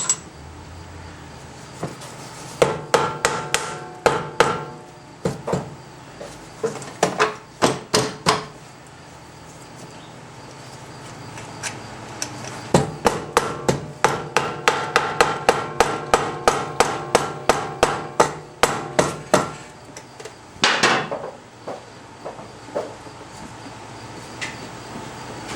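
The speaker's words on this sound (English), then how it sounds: "just give it a couple little whacks with a rubber mallet" Rubber mallet whacks ring out against a part on a 2007 Honda Rancher ATV, coming in irregular bursts of sharp knocks, then long rapid runs of steady taps, close and loud with no talking.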